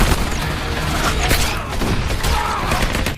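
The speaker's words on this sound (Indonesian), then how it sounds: "tiba-tiba mereka menembaki para tentara" A film shootout in which cartel members fire on soldiers brings dense, rapid bursts of gunfire and booming impacts that continue throughout.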